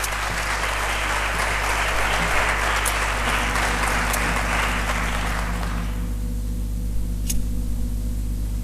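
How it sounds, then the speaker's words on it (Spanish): Loud audience applause greets a group of local writers at a digital book presentation. The clapping is dense for about six seconds, then drops away sharply, leaving a low steady hum and a few isolated claps. "un fuerte aplauso para ellos."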